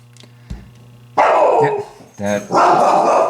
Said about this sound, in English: Any little thing she'll bark at.